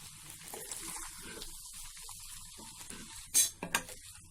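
Egg Schezwan fried rice being stirred and tossed in a pan, soft scraping and light sizzle throughout, ending in two sharp metallic clinks of a spatula against the pan.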